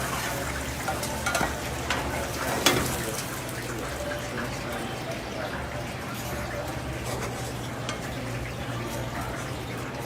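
A grilled cheese sandwich fries in melted butter in a pan, a steady low sizzle and crackle running throughout, with a slightly louder scrape or spatter near the start.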